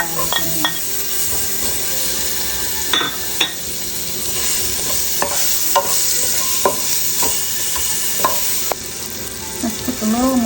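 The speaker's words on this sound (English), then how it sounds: "let's saute some onions and garlic in here" Onions and garlic sauté in a pan after salmon is removed, giving a loud continuous sizzle with stirring scrapes and occasional clinks of utensil on metal.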